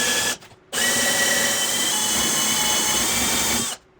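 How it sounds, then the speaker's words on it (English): A power drill whirs steadily and loudly for about three seconds after a brief start, boring continuously through wood before cutting off. "I'm gonna drill my hole all the way through"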